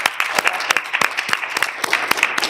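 A small group claps steadily for a couple of seconds at a city council meeting, sharp hand claps overlapping at close range without any talking.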